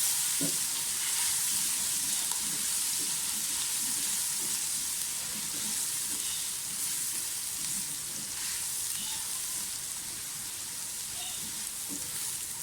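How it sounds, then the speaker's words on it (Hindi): Onions and ginger-garlic paste fry in a pan, giving a soft, even sizzle with faint scattered crackles, fairly quiet and unbroken from start to finish. "लहसुन अदरक का पेस्ट डाल दें, प्याज के साथ इसको भी फ्राई कर लें अच्छी तरह से"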